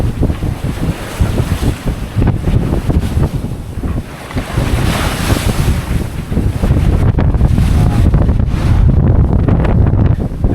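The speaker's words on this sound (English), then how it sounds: "a little bit of a puff in the wind" Strong wind buffets a sailboat crossing the Pacific, with ocean waves washing and surging close by in a steady, loud roar throughout.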